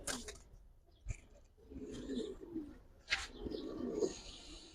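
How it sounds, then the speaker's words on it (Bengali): Pigeons on a pigeon farm, giribaz and racer birds, coo in low throaty bursts close by, two main rounds of cooing separated by brief sharp clicks and flutters in an otherwise quiet space. "এগুলো সব খামারের কবুতর তো।"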